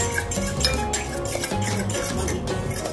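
Banana cake batter with milk being mixed in a bowl, a utensil stirring and scraping with steady clinks and knocks against the sides, close and continuous with no talking.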